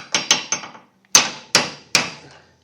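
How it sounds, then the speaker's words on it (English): A hammer taps a 1/2-inch socket to press a washer onto a garage door hinge sleeve during a nylon roller replacement: three quick light taps, then three harder, evenly spaced metallic strikes, close and clear with no talk. "then with a hammer, just kind of tap it, and then with I'm using a 1/2-inch socket, just put it on and give it a couple of taps"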